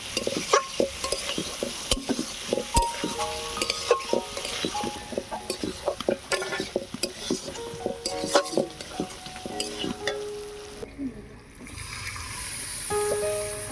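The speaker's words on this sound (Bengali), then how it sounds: "আলুটাকে ভালো করে কষিয়ে নেব।" Pre-fried potatoes are stirred and sautéed in a pan for a village-style duck egg curry with coconut milk, with close, clattering scrapes and knocks of a spoon against metal over a soft background sizzle.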